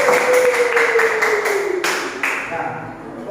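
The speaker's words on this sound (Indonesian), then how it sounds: "Dan tepuk tangan untuk kelompok 4." Classroom clapping for a student group, a quick run of sharp, rhythmic claps that slow and fade over a few seconds while a voice carries on over them.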